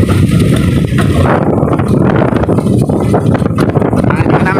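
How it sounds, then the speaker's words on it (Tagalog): Strong typhoon wind buffets a fishing boat at sea, a loud, continuous roaring rush with gusty microphone buffeting and broadband noise throughout. "Grabe ng hangin ito. Bagyo na ito."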